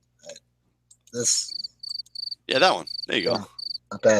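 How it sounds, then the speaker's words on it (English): Cricket chirping sound effect plays in short, regular high-pitched pulses, clear and fairly close, alternating with bursts of people talking. "cricket sound. That's pretty good."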